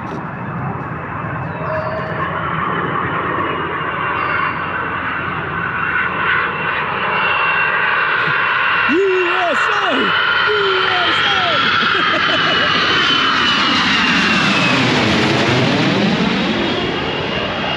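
At an airshow, a fighter jet with its landing gear and tailhook down roars past overhead, a loud continuous engine rush that swells and then sweeps away with a pronounced pitch shift, while spectators talk and exclaim briefly underneath.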